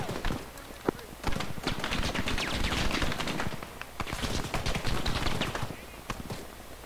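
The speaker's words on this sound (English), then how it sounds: "Yeah, it's Russian and it's shooting at us." A Russian vehicle fires on players in the video game Arma 3, rapid repeated gunshots in dense bursts throughout, mixed with overlapping voices talking over the shooting.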